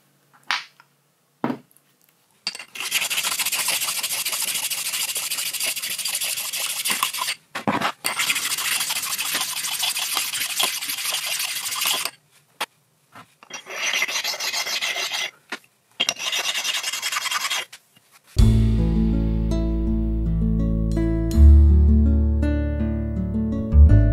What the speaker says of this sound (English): I can clean the exposed slideways with the same pair of diamond-toned stones that I used before